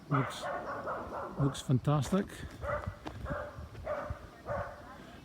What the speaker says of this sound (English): Sorry about the dog barking in the background there.